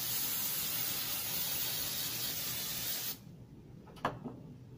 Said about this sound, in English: Now we start with the hairspray.